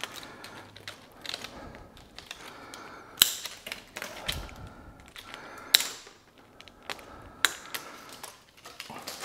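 Nylon layer being stripped from a FlexTube fibre-optic cable, heard as soft scraping and clicking with a few sharp snips and ticks scattered unevenly through, close and fairly quiet, no talking.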